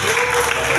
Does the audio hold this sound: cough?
no